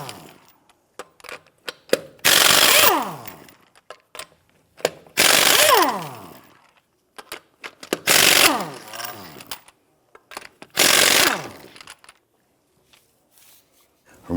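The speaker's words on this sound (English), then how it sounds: "Use a 21mm socket to go ahead and loosen and remove the lug nuts." Bursts of a socket wrench (21mm socket) loosening and removing the wheel lug nuts on a 1992-1996 Toyota Camry, four loud ratcheting spells separated by pauses with scattered clicks and clanks, close up.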